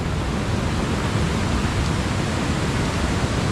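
Steady broadband wash of heavy rain and rushing floodwater, a dense unbroken hiss with low rumble throughout, loud and close with no voices.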